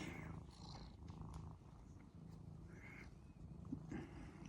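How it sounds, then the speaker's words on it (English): A cat lying on a lap in a garage purrs softly and steadily up close, a continuous low rumble with gentle rhythmic pulses throughout. "There's a cat on my lap."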